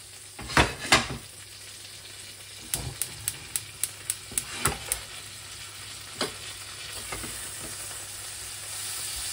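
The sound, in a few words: butter melting and sizzling in a hot pan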